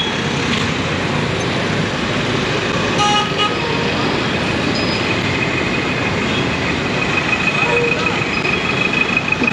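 A bus pulls up amid busy street traffic in Nepal, with a steady loud roar of engines and a few horn toots. Voices are faintly mixed in.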